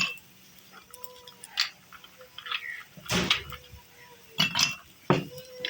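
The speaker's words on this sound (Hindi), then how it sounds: "सबसे पहले आइस क्यूब्स डालेंगे गिलास में।" Ice cubes clink into a glass while gur ka sharbat is prepared, giving scattered sharp, close knocks and clinks of uneven timing with quiet kitchen handling between them.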